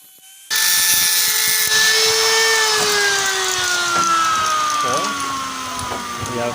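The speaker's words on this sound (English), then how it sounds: "we are going to use a grinder to surface or to remove this excessive" An angle grinder surfaces away excess iridium coil on the stripped threads of a grease press gun cap and nozzle, giving a loud, steady high whine whose pitch slowly sinks as it bears into the metal.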